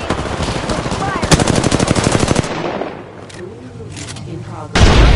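Gunfire in the PS4 game Apex Legends opens as a rapid, loud automatic burst that lasts about two seconds. It is followed by quieter game sounds and a voice, then a sudden loud blast at the end.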